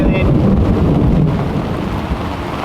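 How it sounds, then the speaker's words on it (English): Wind and rain batter a sailboat at night after a shift to a northwest wind, a loud, continuous roar of gusts and rainfall close to the microphone, with no clear breaks. "the wind swung to the northwest and we got a little bit of rain"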